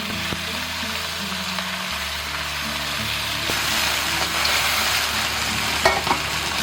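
Chopped chicken pan-frying over medium-high heat in a hot iron wok with cooking oil, for a fermented black bean dry-fried chicken dish; a steady close sizzle that swells louder partway through, with no one talking.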